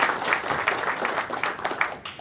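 A gala dinner crowd gives a round of applause, dense, steady clapping from many hands filling the room at moderate distance, with faint murmuring underneath.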